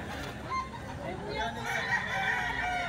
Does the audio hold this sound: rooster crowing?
yes